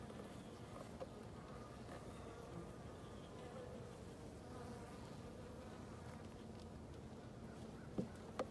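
Honeybees drone steadily around an open hive on a late-season day, a continuous faint buzzing swarm close by with a couple of soft knocks near the end.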